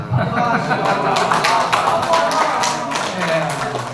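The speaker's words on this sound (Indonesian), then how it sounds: "Tepuk tangan lah." Audience at a campus seminar clapping, a dense burst of many hands sustained for several seconds, loud and close, with voices mixed in.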